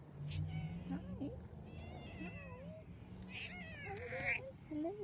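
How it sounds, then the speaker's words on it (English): A cat meows repeatedly in rising and falling calls outdoors beside an old house with a big back addition, fairly close, while a person speaks to it softly between the meows. "Hey, kitty cat."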